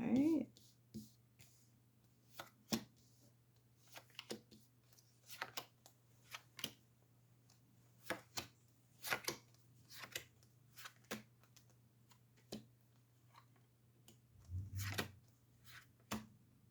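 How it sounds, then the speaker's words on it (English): Twelve tarot cards are laid out one by one on a table: a scattered run of soft, close taps and light snaps at irregular intervals over a steady low hum. "let's just lay out 12 cards"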